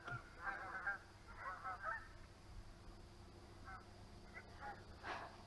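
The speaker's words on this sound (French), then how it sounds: "Ça, c'est une envolée d'oies" A flock of wild geese honks in flight while migrating, bursts of overlapping calls coming in clusters, moderately distant, then thinning to a few scattered honks over quiet outdoor ambience.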